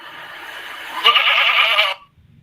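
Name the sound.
goat bleating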